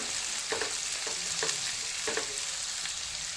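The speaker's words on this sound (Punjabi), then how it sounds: "ਤੜਕੇ ਨੂੰ ਅਸੀਂ 2 ਤੋਂ 3 ਮਿੰਟ ਇਹਨੂੰ ਪਕਾ ਲੈਣਾ" Onion and long green chilli tempering sizzling in a pan, a steady bright frying hiss with a few soft stirring scrapes, no voices.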